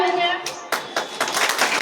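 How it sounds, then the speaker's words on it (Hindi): Children clapping in a school hall to welcome the block education officer, a short irregular patter of applause under speaking voices. "मैं जोरदार तालियों के साथ चाहूंगा कि बच्चों को कि जोरदार ताली दें"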